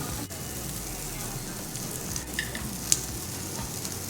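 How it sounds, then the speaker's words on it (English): Kimchi sizzles on a Korean grill at an all-you-can-eat restaurant in Gangnam, a steady close frying hiss with faint crackles and one sharp pop near the end, no talk. "my kimchi has finished grilling"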